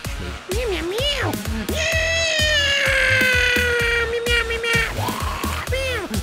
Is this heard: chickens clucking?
no